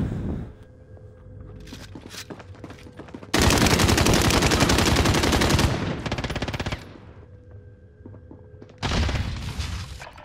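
Loud machine-gun bursts from Call of Duty Warzone, a long sustained volley in the middle and another burst near the end, with quieter gaps between.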